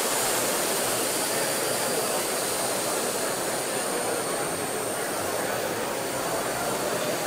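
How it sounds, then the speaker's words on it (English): A Parrot AR.Drone 2.0 wi-fi quadricopter hovers close by, giving off a loud, steady, broadband whirring rush from its rotors that stays constant throughout with no pauses. "Here we have it. Super stable AR drone."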